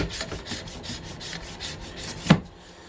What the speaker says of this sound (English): plexiglass ski scraper, any sort of firm plastic scraper will do the trick. I like to clean the tips and the tails first.